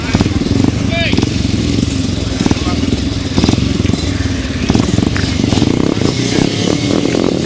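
Grasstrack racing motorcycles at the 2007 High Easter grasstrack meeting roar off the start together in a dense, loud engine blare, with a commentator talking over them throughout.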